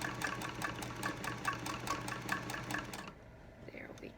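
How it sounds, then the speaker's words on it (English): A sewing machine stitches a fabric face mask in a rapid, steady run of needle strokes lasting about three seconds, then stops, leaving a quiet room with faint handling noise. "after this step you're ready to sew the mask together"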